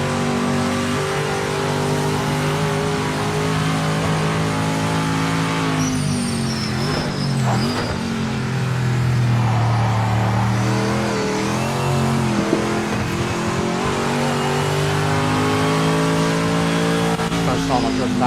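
Race car engine in the Project Motor Racing video game, a loud sustained mechanical whine with shifting pitch as it revs and changes gear, under ongoing talk from players.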